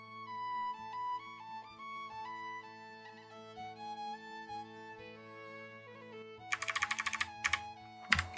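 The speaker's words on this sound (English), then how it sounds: "I'll just type it in, so you get to watch me type" Typing on an iPad keyboard, heard as soft keystrokes beneath a sustained musical tone and a quick burst of rapid clicks near the end, fairly faint and with no one speaking.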